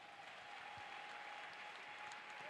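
A church congregation applauding to acclaim Jesus, a sustained, even roar of clapping from a crowd, distant and fairly faint, with no pause.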